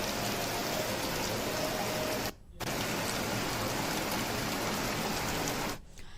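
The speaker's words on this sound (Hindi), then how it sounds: "शहर से लेकर ग्रामीण इलाकों तक रुक रुक कर हो रही बारिश ने लोगों की चिंता को बढ़ा दिया है।" Steady, dense rain in Haridwar, a loud continuous hiss of drops falling on surfaces, close and unbroken except for two brief near-silent cuts.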